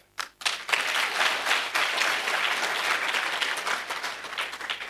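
An audience at an innovation competition breakout session bursts into hearty applause after a brief pause, a dense, sustained wash of many hands clapping that stays loud and gradually eases toward the end.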